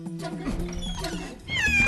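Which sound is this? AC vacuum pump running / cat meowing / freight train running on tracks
cat meowing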